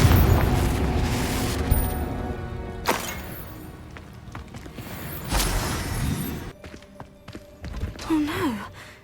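Confringo blasting spells detonate in Hogwarts Legacy combat, several heavy booming explosions spaced a few seconds apart that fade into quieter clatter, with a gasping voice near the end.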